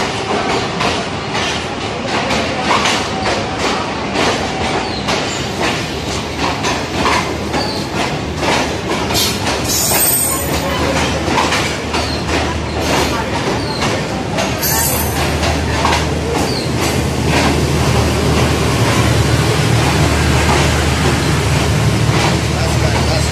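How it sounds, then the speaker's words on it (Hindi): Trains at Multan Cantt railway station in Pakistan rumble continuously with steady clickety-clack of wagons rolling past, a low engine drone and occasional metallic squeals, loud and close throughout, with faint voices in the background. "असां मुल्तान रेलवे स्टेशन ते खड़े ही से"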